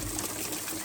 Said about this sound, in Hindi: यहाँ से छत टपकने लग गई है